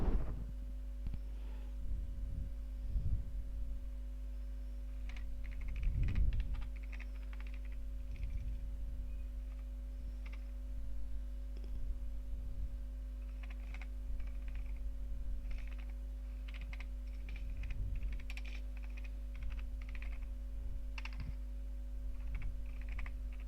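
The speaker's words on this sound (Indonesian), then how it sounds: "Di sini saya mengetik satu tangan karena menggunakan satu tangan lagi untuk memegang mic." Steady one-handed typing on a computer keyboard, irregular clusters of soft key clicks over a constant low electrical hum, with no talking.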